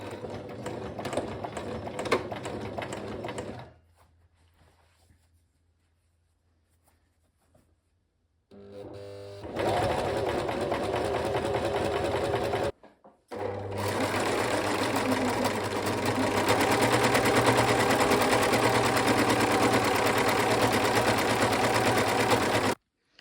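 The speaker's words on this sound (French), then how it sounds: "là je vais assembler mes petits côtés, tout surjeter" An overlocker sergeing the side seams of a dress runs in a loud, steady mechanical whir. It stops for several seconds of near silence, then starts again and runs continuously with a brief pause, close up and without speech.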